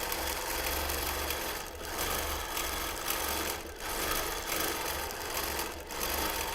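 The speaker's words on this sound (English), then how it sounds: "So you're going to see now I'm quilting at the far edge." A sewing machine free-motion quilting a whole quilt runs with a fast, continuous mechanical whirr, close and loud, easing off in brief dips every couple of seconds before picking up again.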